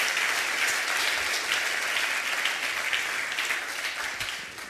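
Sustained applause from a large church congregation, dense and steady throughout, gradually tapering slightly toward the end with no voices standing out.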